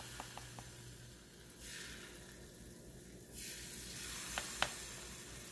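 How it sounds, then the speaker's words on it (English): Banana fritter batter sizzles in a frying pan: a steady, soft broadband hiss that swells slightly midway, with a few small pops and crackles. "You're gonna just pour it in to the frying pan in sections."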